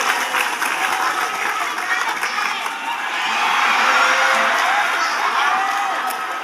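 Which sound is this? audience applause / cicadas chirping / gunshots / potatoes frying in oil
audience applause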